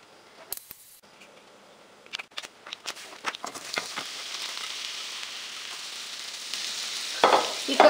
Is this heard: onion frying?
yes